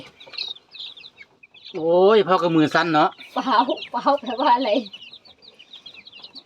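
Small chicks and young ornamental chickens clucking and cheeping close by, with repeated bursts of calls through the middle; someone talks over them at times.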